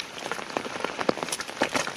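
Rain falls with a scattered, irregular patter of close drops tapping on a surface, steady and fairly soft.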